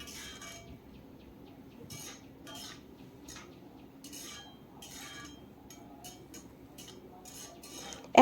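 Bitter gourd and eggplant being stirred with a little water in a pan, a series of light clinks and scrapes from a utensil against the pan in irregular bursts, close and fairly quiet.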